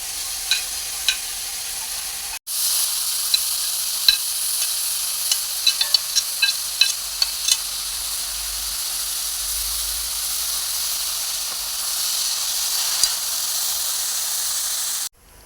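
Chopped banana flower and grated coconut stir-fry together in a pan with a constant loud sizzling hiss. A brief break comes early on, and light spoon clicks and taps against the pan scatter through the steady frying.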